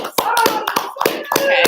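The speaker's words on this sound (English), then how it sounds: "Okay, I guess I'll self-applaud." One person claps hands several times in an uneven rhythm, sharp and close, with a voice speaking briefly between the claps.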